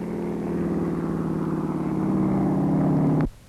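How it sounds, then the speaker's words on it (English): A two-engine standard Boeing plane takes off for a test flight before an air race, its engines giving a steady, loud, buzzing drone that builds slightly and then cuts off abruptly. "They take off for a test flight in that two-engine standard Boeing plane."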